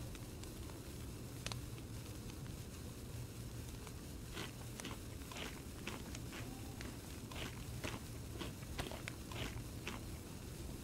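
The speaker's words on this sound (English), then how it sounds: "Might have heard footsteps." Footsteps of a survivor in the video game DayZ, a scatter of soft, irregular crunching steps over a steady low hiss, fairly quiet and spread across the whole stretch with no talking.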